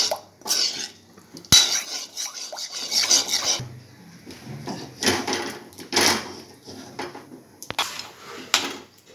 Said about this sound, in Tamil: இதை நல்லா கட்டிப்படாமல் நல்லா கிண்டுங்க.